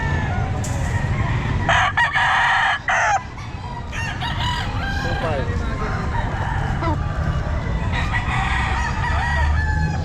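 Roosters crow and chickens cluck at a busy pet market in Calumpit, with repeated crows rising over steady crowd chatter and market noise, some calls close and others farther off.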